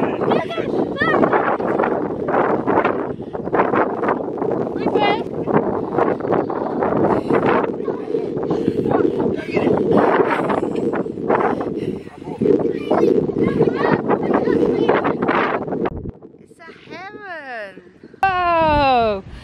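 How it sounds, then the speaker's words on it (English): Strong wind buffets the microphone outdoors beside a narrowboat, a loud continuous low roar under several people talking and calling out throughout, with the gusts dropping away near the end. "It's very windy out here."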